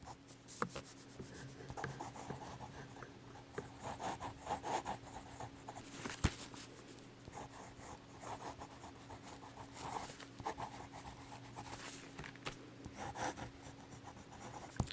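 Fine-nib Sheaffer fountain pen scratching across paper, a steady soft rasp of continuous writing strokes with small pauses, close and quiet, no voices.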